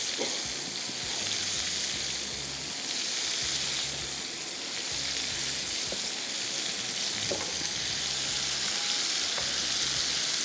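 Leftover beef sizzles steadily in a hot pan, a continuous broadband frying hiss with occasional soft clinks and stirring scrapes, close and fairly loud, no talking.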